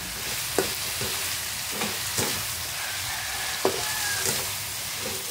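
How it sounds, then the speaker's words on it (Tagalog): Cooked bitter gourd with egg sizzles in a pan, a constant soft frying hiss punctuated by a handful of sharp spatula scrapes and taps, close and without talk. "Luto na siya kaya inalo-halo ko na."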